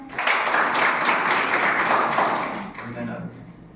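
Audience at a college poster presentation clapping for a winning team, a loud, steady burst of applause that tapers off near the end.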